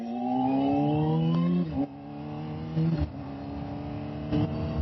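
A motorbike engine rises in pitch as it revs, then drops and picks up again with a few more short rises. It sounds close and moderately loud, with no talk.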